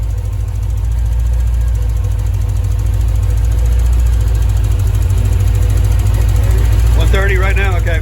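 A Paxton-supercharged C4 Corvette with a TPI ZZ3 5.7-litre V8 and Edelbrock high-flow parts runs on its first start, giving a loud, steady, close low rumble. A voice comes in briefly near the end.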